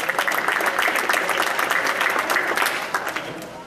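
Steady crowd applause at a primary school graduation ceremony greets a former student, many hands clapping briskly and fairly close before tapering off toward the end.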